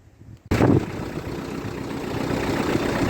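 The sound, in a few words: small tractor engine running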